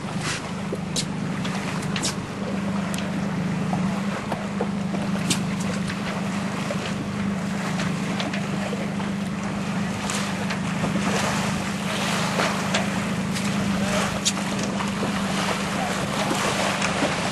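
A J/109 sailboat moves through the water in light wind of about 8 knots, with a steady wash of water along the hull and constant wind rumble on the microphone throughout.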